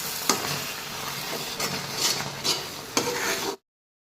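Mango muramba being stirred with a spoon in a pan after cardamom powder goes in, soft scraping and swishing with several sharp clinks against the pan, close and fairly quiet, ending abruptly.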